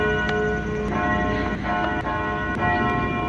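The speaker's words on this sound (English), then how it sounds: "excuse me that bell" A bell rings repeatedly in a steady tolling pattern, loud and close, with sustained ringing tones between strikes and no talking over it.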